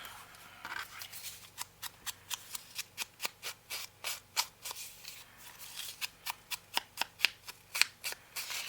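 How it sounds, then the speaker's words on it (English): Paper tears in a series of short crisp rips and rustles while a journal page is made, close and fairly quiet, coming in an uneven stream with no talking. "So I'm going to tear it right there."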